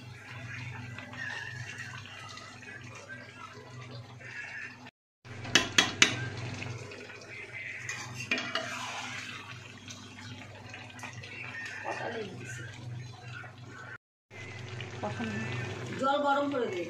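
Metal spoon stirring potatoes with turmeric in a kadai, with irregular clanks and scrapes against the pan and a sharp cluster of knocks, under ongoing talk and a low kitchen hum.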